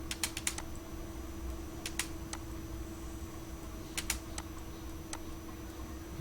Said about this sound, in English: To on the points you have to click F10 in your keyboard